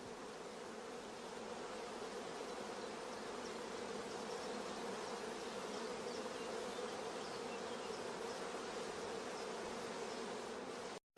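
Honey bees crowd thickly around queen cells on a rearing frame, filling the air with a dense, unbroken buzzing hum heard close and loud throughout, alone and without talk.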